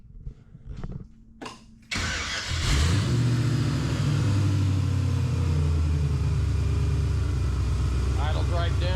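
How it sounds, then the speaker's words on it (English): A project car's engine cranks over after a few clanks, catches and roars up loudly, then settles into a steady, rumbling idle that fills the rest of the clip, with a voice talking over it. "Motor runs. Actually runs pretty good at this point."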